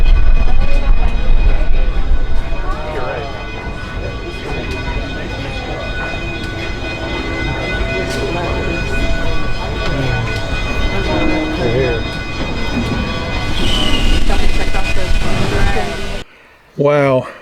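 A narrow gauge steam train on the Durango & Silverton railroad rumbles and clatters along with a steady mechanical roar, while people talk over it; the noise cuts off abruptly near the end.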